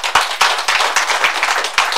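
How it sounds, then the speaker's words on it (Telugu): An audience at a numerology graduation ceremony claps, a short burst of brisk, uneven hand claps from several people, fairly close and without talk. "Right, give the big claps."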